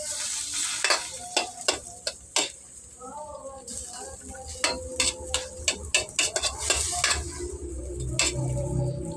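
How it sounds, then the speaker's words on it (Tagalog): Pork and chicken stew with sautéed garlic, onion and oil being stir-fried in a pan, with steady sizzling under repeated sharp clinks and scrapes of a utensil against the pot. "Then, halo lang. Stir fry."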